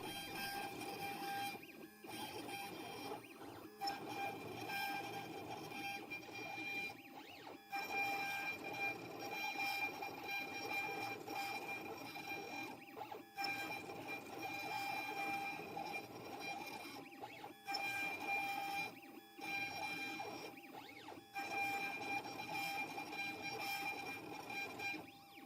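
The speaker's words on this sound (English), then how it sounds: "I have changed out the cutter for something a little bit bigger, and we are cutting the final portion of the cross," A CNC machine with a larger cutter carves the final horizontal portion of a pink ivory and purpleheart wood cross, producing a steady whining, humming cut broken by brief pauses as the bit moves between passes.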